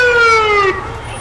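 A Medic EMS ambulance siren sounds during a 4th of July parade in Bettendorf, a loud, close electronic wail that slides downward and then fades into the background street noise.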